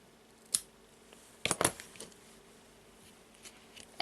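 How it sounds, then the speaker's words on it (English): Scissors snip through a braided crochet cord for a handmade bracelet: a quiet single clip followed a second later by a quick cluster of sharp metallic snips, then near silence. "I'll take the scissors and cut."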